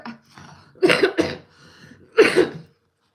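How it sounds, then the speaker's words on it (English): Three harsh, close coughs: a quick double cough, a short pause, then a single cough, with faint rustling between. "I don't even know why every time I get on here I keep coughing like this"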